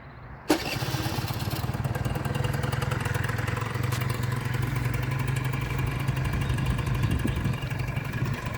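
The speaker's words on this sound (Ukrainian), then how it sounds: "Так, двигунчик затуркутів." A Honda Dio scooter engine with a new piston kit sputters to life with a sharp start, then settles into a steady, loud, rattling idle close by.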